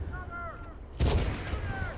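A single loud, sharp gunshot blast from the PC game Medal of Honor (2010), bursting out over quiet background ambience and melodic chirps, then decaying into a rumbling tail.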